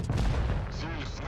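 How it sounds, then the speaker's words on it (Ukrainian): Tank gun fire in World of Tanks Blitz from an E100, a heavy booming shot with a rumbling tail under game noise, with someone talking over it. "зробив цей постріл раніше, ніж Шерідан"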